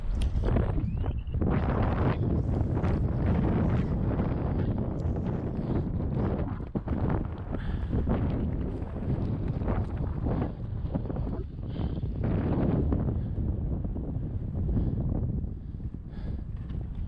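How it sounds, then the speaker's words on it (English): Strong wind roaring over Anderson Pass on the Uinta Highline Trail in cold, icy conditions, a continuous heavy buffeting rush with gusty swells across the whole stretch, loud and close against the microphone, with no talk. "The wind coming over Anderson Pass, which is right here"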